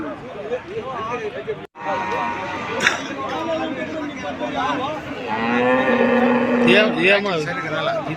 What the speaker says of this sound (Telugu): ఇక్కడైతే ఆవు కూడా పెద్దది ఉంది అనమాట